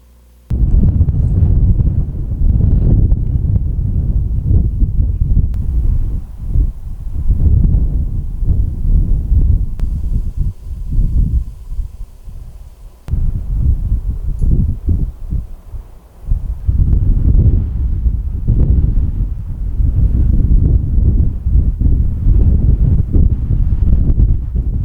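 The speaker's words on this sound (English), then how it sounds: "The wind even up here is sort of intermittently gusting." Wind gusts high in the mountains buffet the microphone in loud, low rumbling bursts that rise and fall unevenly, with brief lulls between stronger blasts and no talking.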